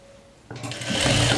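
A sewing machine starts up and stitches fabric at speed, a close, loud, rapid mechanical whir that begins abruptly and runs steadily to the end, with no voices.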